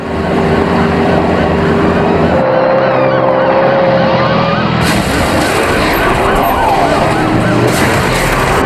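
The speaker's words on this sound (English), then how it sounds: "And this film has got a fantastic boat chase sequence." A loud motorboat chase from a James Bond film, with engines roaring and whining continuously over water spray and dense action-film sound effects, shifting in pitch as boats pass.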